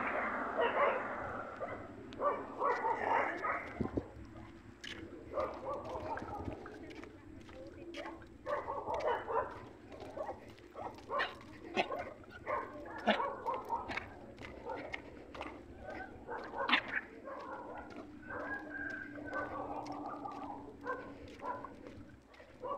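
A dog barks repeatedly among scattered clattering steps, with people talking over and between the barks.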